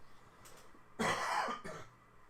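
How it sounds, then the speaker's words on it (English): A person with lingering chest irritation lets out one harsh, loud cough, followed by a smaller second cough, recorded close and alone in a quiet room. "Again, I apologize for the coughing."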